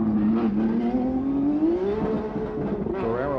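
A 1991 CART Indy race car on the Detroit street course, its engine note rising steadily in pitch as it drives past, loud and close, with a faint commentator voice underneath.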